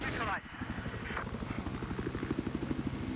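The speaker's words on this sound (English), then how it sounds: "I spawned a helicopter this time." A Battlefield 4 helicopter spawns and its rotor thrums in a fast, rhythmic beat that builds steadily under the engine drone, while players chatter over it.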